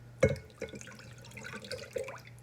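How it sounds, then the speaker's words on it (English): A mixture of beaten eggs and liquids for doughnut dough trickles and splashes into a bowl, with a brief louder pour at the start and softer drips and dribbles after, close by and without talk. "Pour our liquids."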